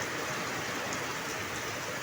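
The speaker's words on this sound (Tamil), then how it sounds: "செம்ம மழை ஃப்ரெண்ட்ஸ்." Heavy rain pours down steadily in the Villupuram area, a dense, even hiss of drops on surfaces with no pauses and no voices.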